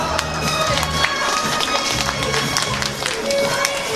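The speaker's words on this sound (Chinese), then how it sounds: "我现在邀请你用温暖的掌声，我们要来欢迎我们今天美丽的女主角玉玲入我们的幸福殿堂" Wedding banquet guests applaud as the bride makes her entrance: a dense patter of many hands clapping steadily throughout a large hall, with a crowd murmuring and some voices under the claps.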